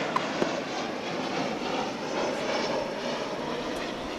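An airliner taking off from runway 18 left at Dallas/Fort Worth: a fairly faint, distant, steady jet engine rumble with a couple of brief clicks near the start, no voices.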